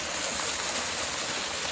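A waterfall in Constantine, Algeria, heard as a steady, dense rush of falling water, close and continuous with no talking.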